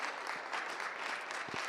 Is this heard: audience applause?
yes